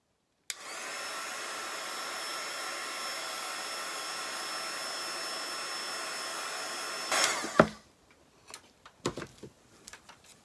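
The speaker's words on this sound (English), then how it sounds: "one more time with the heat gun to make sure it's coated well." A heat gun blows hot air over a primitive country craft piece to set its coating, a steady whooshing roar that runs for about seven seconds, then cuts off, followed by a few faint handling clicks and knocks.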